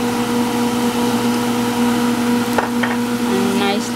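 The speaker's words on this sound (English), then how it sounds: "Fry it." Khoya frying in a pan for a mushroom and peas curry, a steady close sizzle with stirring scrapes near the end, no talk over it, under a constant low hum.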